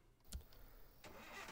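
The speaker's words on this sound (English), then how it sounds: "Start my car up here a little bit here." Car engine starting in Thief Simulator, a faint click and crank followed by the engine catching and settling into a low rumble, no talk.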